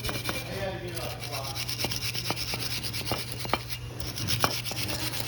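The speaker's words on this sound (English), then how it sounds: "use a wire brush, take a lot of this stuff off" A wire brush scrubbing rust and dirt off a wheel hub on a 2004 Chevrolet Tahoe, close rasping strokes in quick uneven bursts over a steady low hum.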